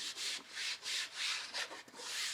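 A cloth wiped firmly with acetone across a Jeep Wrangler panel to clear residue makes close, repeated rubbing strokes, with about five brisk swipes in quick succession.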